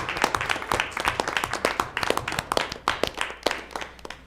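An audience at a school board of education meeting breaks into applause, individual sharp claps clearly audible in a fairly close, uneven patter of a modest crowd.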